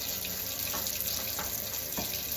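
Tap water streams steadily into a Pampered Chef Deluxe Cooking Blender jar being rinsed out after making peanut butter, a close, continuous hissing splash with faint clunks of the jar and no speech.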